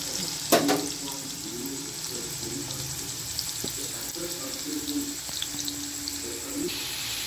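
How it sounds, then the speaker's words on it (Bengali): Potatoes frying lightly in a pan for muri ghonto, a soft continuous sizzle with occasional utensil taps and a brief clatter early on, close and fairly quiet. "আলুগুলো হালকা একটু ভাজবো,"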